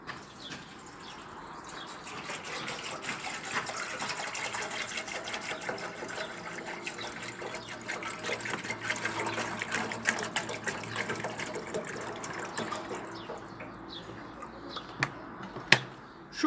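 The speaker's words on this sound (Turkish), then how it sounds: "Şimdi içerisine suyumuzu dolduracağız ve devrilmediğini sizlere de göstereceğiz." Water pours steadily into the water compartment of a samovar, a continuous gushing and splashing fill lasting many seconds at moderate volume, ending with a couple of sharp clinks.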